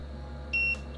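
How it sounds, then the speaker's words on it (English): A NewAir 43-bottle dual-zone wine fridge control panel gives one short, clear electronic beep as it unlocks, sounding alone over a steady low hum. "You'll hear a beep"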